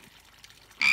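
A frog in a pond gives a single short, loud croak at the very end, after near silence.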